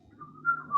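Someone whistles a short rising melody to imitate John Keating's entrance in Dead Poets Society, a clear, close tune with two or three held notes under faint room noise.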